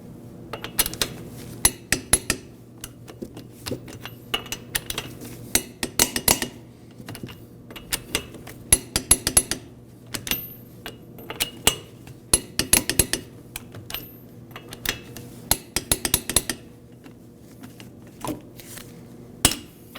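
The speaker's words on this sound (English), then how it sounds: "Now we'll torque the wheels to 72 foot-pounds." A torque wrench tightens the wheel lug nuts on a 1993-2001 Subaru Impreza after a front hub and bearing replacement. Sharp metallic clicks and clacks come in close, irregular bursts with short quiet gaps.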